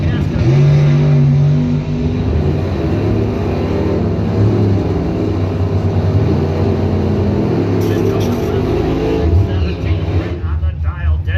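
A 1969 El Camino and a 1964 Chevy II drag race car roar hard and close at the launch, then hold a loud, sustained engine drone that fades toward the end, with an announcer talking over it.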